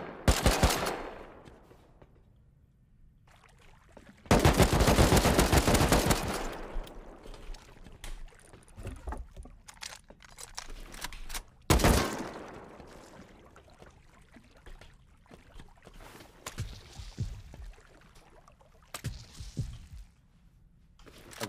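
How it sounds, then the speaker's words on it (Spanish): Gunfire in the survival video game Rust: bursts of rapid automatic shots crack out loud and close, separated by quieter stretches with scattered single shots and ambient noise. "He escuchado un disparo"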